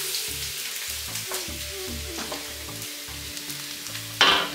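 Chopped garlic, about five cloves, sautéing in two tablespoons of hot oil in a wok: a continuous close sizzle with occasional stirring scrapes and a louder burst of frying near the end.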